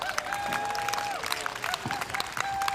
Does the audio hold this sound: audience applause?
yes